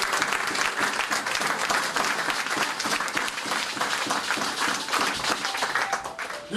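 A church congregation applauds in praise to the Lord during a sermon on spiritual rebirth, producing dense, steady clapping from many hands that holds for several seconds at full strength.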